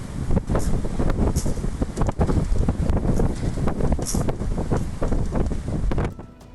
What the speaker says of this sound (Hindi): साइबेरिया की तस्वीरें जहां पर बर्फीला तूफान और तेज हवाएं चली